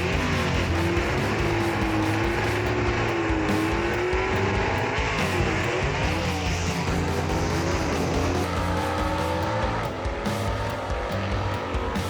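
Gasser drag cars roar down the strip at Knoxville Dragway, loud engines howling and rising in pitch as they accelerate, with a thick rumbling wall of exhaust and crowd-level ambience continuing throughout.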